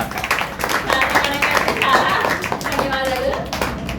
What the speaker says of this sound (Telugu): ఇస్ బిగ్ హ్యాండ్ గట్టిగా క్లాప్స్ కొట్టండి